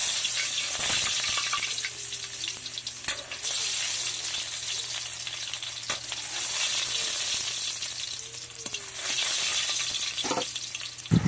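Garlic frying in hot cooking oil in a kawali pan, a continuous close sizzle with occasional louder crackles and a brief scrape of stirring near the end.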